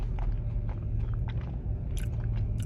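Chewing and biting into a glazed chocolate Krispy Kreme or Dunkin donut with chocolate icing and sprinkles, close-up moist mouth sounds with a few soft crunchy bites over a steady low background hum.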